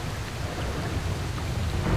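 Heavy downpour in S.T.A.L.K.E.R. Narodnaya Solyanka hisses steadily and densely, with a low thundery rumble beneath it and no voices, keeping an even loudness throughout.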